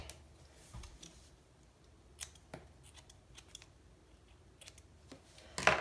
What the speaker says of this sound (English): I'll cut that off. I have my scissors here, they're hidden.